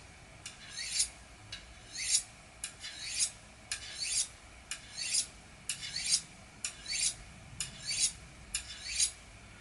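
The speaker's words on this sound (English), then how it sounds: "you draw it down while maintaining that angle across the surface of the sharpener" Knife blade drawn in rhythmic strokes across a WorkSharp Culinary sharpener, freehand at a held angle, giving about ten bright, evenly spaced rasping swipes, close and clear with no talk.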